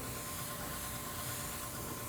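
Airbrush spraying paint in a continuous steady hiss, close and fairly quiet, laying down brown overspray and shadow tones on an artwork, with no voices present.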